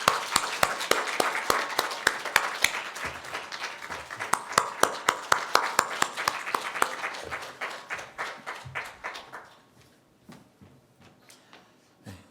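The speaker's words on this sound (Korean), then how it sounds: "우리 감사하는 마음을 담아서 박수하겠습니다" Church congregation at a Sunday worship service claps in thanks: sharp, distinct hand claps in a fairly sparse rhythm that thin out and fade to near silence toward the end.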